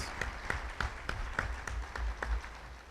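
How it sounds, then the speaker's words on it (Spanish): Sparse, rhythmic clapping from a small audience after a lawyer's presentation on Mexican labor law tripartism, individual claps distinct and steady, moderately close, no voices. "le pediríamos un aplauso"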